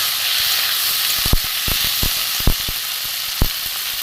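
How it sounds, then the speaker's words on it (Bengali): Turmeric, chili powder and cumin powder fry in a little oil in a pan, giving a close, steady sizzle broken by a few sharp spatula knocks as the spices are stirred. "জিরেটা আমি কষবো।"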